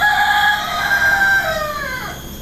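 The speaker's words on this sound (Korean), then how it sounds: "닭소리 들리시나요?" A rooster crows once, long and loud, its call rising then trailing off, clear and fairly close over a steady outdoor background near a farm in Ubud, Bali.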